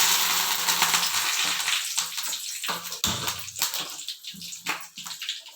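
Mustard seeds spluttering and crackling in hot coconut oil in a pan, a busy close sizzle with irregular pops that thins out over several seconds.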